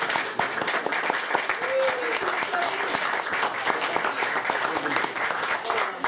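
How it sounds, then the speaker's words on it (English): Folk club audience at a Christmas party clapping for Monica's band, sustained applause from a modest crowd with sharp individual claps and some voices underneath. "a round of applause for Monica's band"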